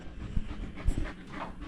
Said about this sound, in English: It's an Irish wolfhound.